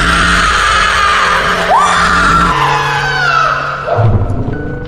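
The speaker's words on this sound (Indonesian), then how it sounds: "Tiba-tiba, ada suara teriakan" A loud, piercing scream rises and wavers over a dense, noisy background, then fades out as another cry begins near the end.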